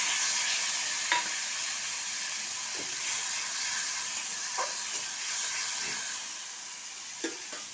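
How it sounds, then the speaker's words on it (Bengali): A spice paste with chopped tomato, chili and turmeric fries in a pan for fish curry, giving a steady hissing sizzle with a few faint scrapes of stirring; no talking. "মশলাটা খুব ভালো করে ভাজা"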